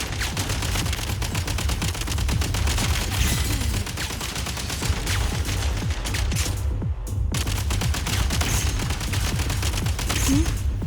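Gunfire in the Genshin Impact video game after a command to fire, a dense rapid volley of shots pounding on for several seconds with a brief gap midway, loud and steady.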